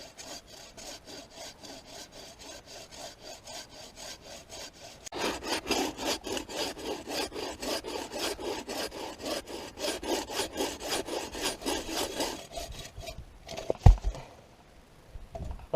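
A hacksaw cuts through a tree trunk for firewood in steady back-and-forth strokes. The rasping rhythm starts soft and slow, then grows louder and faster, and ends with a sharp knock as the cut finishes.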